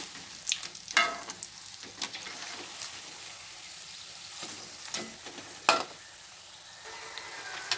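Vegetable bonda frying in hot oil, a steady close sizzle with bubbling crackle and occasional louder pops and stirring clatters, no voices.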